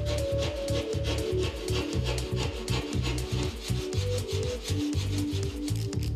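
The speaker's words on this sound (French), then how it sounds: "Le côté le plus court est coupé à l'aide d'une scie spéciale pour les panneaux en plâtre." Continuous back-and-forth rasping of a special plasterboard saw cutting through plasterboard, steady rhythmic strokes up close with no talking.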